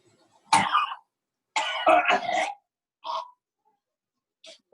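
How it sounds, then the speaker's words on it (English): Several harsh coughs and throat-clearing bursts come through an open microphone in a quiet online class, in uneven clusters separated by silence. "Whoever's coughing something up, your mute isn't on"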